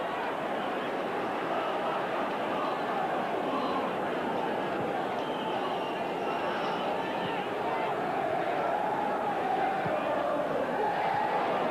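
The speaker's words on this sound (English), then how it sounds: "Crowd now starting to get much more animated." Football crowd at an Everton versus Liverpool match, a dense continuous roar of voices and chatter that swells slightly louder toward the end, steady throughout with no single voice standing out.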